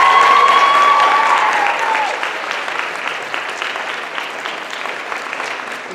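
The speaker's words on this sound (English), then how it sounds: "let's give her another round of applause" An audience claps at a story slam summit, a loud burst of applause that starts strong and slowly thins out, dense and close, with a faint voice briefly underneath at the start.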